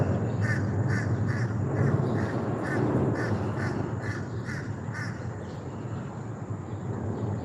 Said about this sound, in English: My crow buddy's saying hello to everybody.